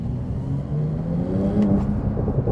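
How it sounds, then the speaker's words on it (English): Deep, steady engine rumble and whir from inside a Porsche 911 Turbo S under hard acceleration, with a low drone that builds slightly in pitch and loudness, heard alone without talking. "this thing accelerates at a frantic pace"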